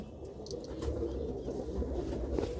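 Low, soft cooing of a pigeon, repeated in gentle throaty pulses, faint and close under a quiet background.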